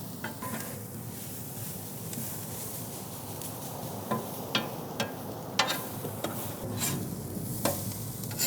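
Pork belly pieces sizzle in rendered fat in a pan, a steady frying hiss with occasional sharp pops and spatula scrapes toward the end, fairly close and alone.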